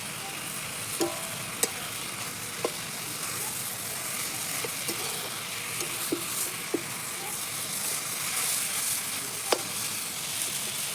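Cabbage frying in a pan at a picnic cook-up, a steady soft sizzle with occasional sharp clicks from a stirring spoon against the pan, close and even throughout.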